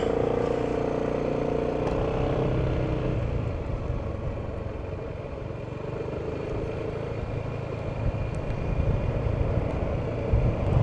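A Yamaha Xmax scooter idles and pulls away on top of South Mountain, its engine a steady close drone with slight revving and wind rumble throughout.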